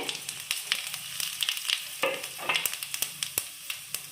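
Panch phoron spices fry in hot oil for Odia aloo chutney, giving a steady close sizzle with many sharp crackling pops and spits throughout, with no voices.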